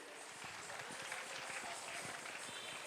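An audience at a Christmas celebration at St. Lawrence Church and Shrine in Bondel claps steadily for a children's dance, a sustained mid-level patter with faint thumps and some crowd murmur beneath.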